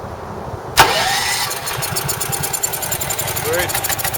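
A Champion generator engine catches after being choked, with a sharp start followed by a rapid, steady mechanical chatter of idling; a voice is heard briefly under the running engine.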